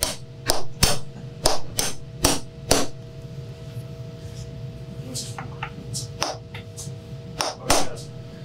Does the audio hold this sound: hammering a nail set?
yes